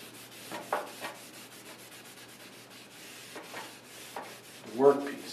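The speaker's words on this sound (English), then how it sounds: "I'm going to gently, with the grain, wipe the stain" A cloth wipes wood stain onto a workpiece along the grain, giving soft, quiet rubbing strokes that come and go, with a slightly firmer swipe near the end.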